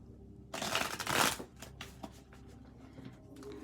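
Tarot cards riffle together in a brisk burst, then soft flicks and taps continue as the deck is handled, close up and fairly quiet.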